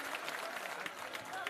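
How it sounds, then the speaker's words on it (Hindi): A crowd at a political rally in Bihar breaks into loud, sustained applause, a dense wash of clapping that stays steady for the whole moment, with voices mixed in. "एक बार जोरदार ताली इनके लिए बजाइए"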